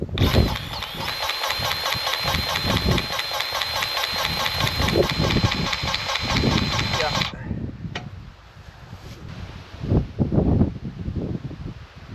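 A tractor pulling a hay tedder drones steadily for about seven seconds, then the engine noise cuts away, leaving quieter rustling and faint voices.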